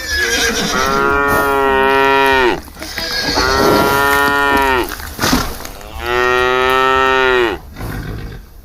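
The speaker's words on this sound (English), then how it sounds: "Dolly heard a sound and knew that it was a cow family that came to graze." Cows of a grazing family lowing three times in long, loud moos with brief pauses between, close by and with no voices.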